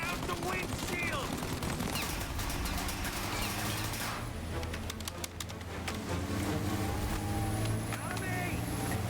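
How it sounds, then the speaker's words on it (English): Video game gunfire aimed at a car windshield in Mafia: Definitive Edition, with dense bursts of shots and impacts crackling through much of the scene over engine noise, plus a voice talking. "The windshield! Shoot out the windshield!"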